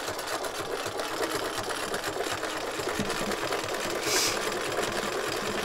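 A sewing machine runs steadily, stitching a circle as the fabric pivots around a pin, its even motor hum and rapid needle rhythm continuous and close with no talk.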